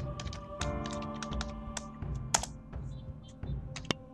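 Close, quick clatter of computer keyboard keys as a password is typed, with irregular bursts of taps and short pauses.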